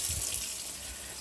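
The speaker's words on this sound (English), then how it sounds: "So we're going to open up the tap on the sink." Water rushes steadily from a sink tap in a 2014 Buccaneer schooner, a close, continuous hiss of flow with no voices.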